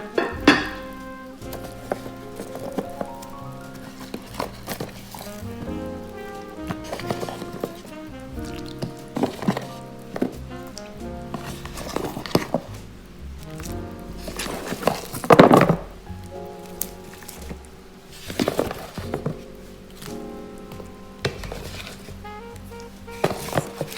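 Chopped vegetables tumble into a pot of simmering bone broth with a run of clattering thunks and splashes, then a busy patter of knocks and scrapes against the pot.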